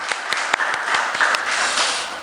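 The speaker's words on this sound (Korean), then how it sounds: "오늘은 박수로 우리 축하해드리도록 하겠습니다" A church congregation applauds to celebrate newly appointed team leaders during a Sunday service, a dense wash of clapping with a few sharper individual claps standing out, steady and fairly close throughout.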